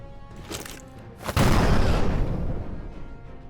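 A grenade blast in the steampunk tactics game Shardpunk: Verminfall, one loud booming explosion with a long rumbling tail, preceded by quieter clattering action.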